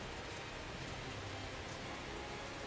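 Heavy downpour in the video game Tales of Zestiria, a constant broadband hiss of falling rain at even loudness throughout, with no talk over it.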